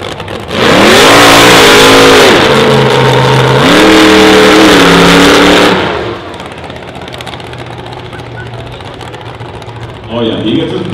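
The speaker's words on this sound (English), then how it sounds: "Oh yeah, he gets to do his burnout just like everybody else." A wheelstanding hot rod firetruck does a burnout at a drag strip, its loud engine revving hard in two long sustained bursts before dropping to a lower rumble, with a voice briefly audible near the end.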